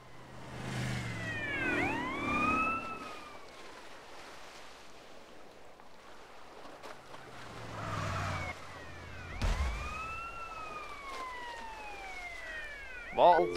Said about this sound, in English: Sirens go on.